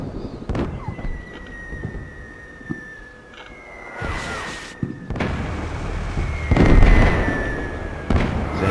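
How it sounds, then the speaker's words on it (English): Airburst mortar rounds from the combat game Combat Mission Shock Force burst over a Marine javelin team, with several loud booming detonations spaced across the stretch, followed by rumbling tails and whistling streaks. "Come the airburst mortars right on my javelin team and my, even worse, on my company commander"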